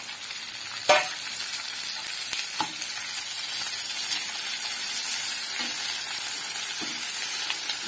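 Tomato added to reddish-browned onions frying in a pan, a continuous close sizzle broken by several sharp stirring scrapes and clacks, no talking.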